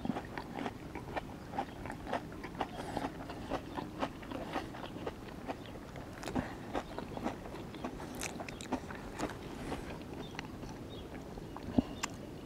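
Close, repeated biting and chewing of a homemade fish finger burger with mayonnaise, eaten by a harbour, with soft crunches and mouth sounds over a steady outdoor background.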